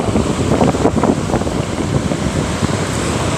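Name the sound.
wind at the seaside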